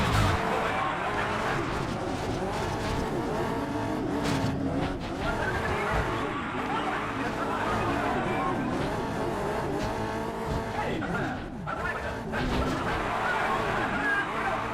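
Race car engines roar steadily in the PS2 game Test Drive: Eve of Destruction, with tires squealing and skidding through a continuous, loud run; a voice talks over the racing.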